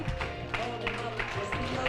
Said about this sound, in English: Keep the clapping noises going for your feature